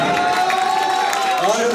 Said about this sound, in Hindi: पीछे वाले ही जोरदार तालियां देते